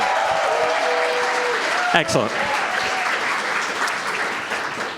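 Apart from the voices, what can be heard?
audience applause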